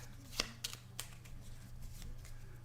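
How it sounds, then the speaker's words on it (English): Board game cards for Eldritch Horror are shuffled by hand on a table, a few sharp close flicks and riffles followed by softer sliding, with no voices. "Shuffle these up a little bit in case some of these need to be."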